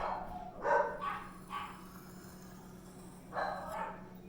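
Dogs barking in short bursts at moderate distance, a few separate barks spaced over several seconds against a steady low hum.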